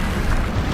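A Bombarda spell explosion in the video game Hogwarts Legacy hits as a single loud, close, rumbling boom that fills the whole short moment.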